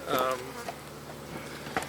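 Honeybees hum during a July hive inspection, a faint low steady buzz running throughout, with a brief voice near the start.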